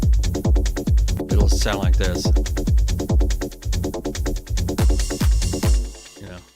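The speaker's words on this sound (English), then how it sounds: "so it'll have the first kick on the last bar and the last 3 kicks on that last bar before the change will be silent" Techno kick drum pattern built in Cubase: a steady, loud four-on-the-floor thump that repeats through the bar, with the final kicks dropping out before the change while a voice talks briefly over it.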